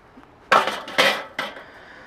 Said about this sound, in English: Put the grate on.